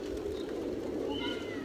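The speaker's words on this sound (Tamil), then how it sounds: "பாருங்கள் கைஸ், எவ்வளோ புறா இருக்குது பாருங்கள்." A flock of pigeons coos at Boudha Stupa in Kathmandu, making a continuous low, throaty murmur of overlapping calls in an open outdoor setting, with faint higher chirps mixed in.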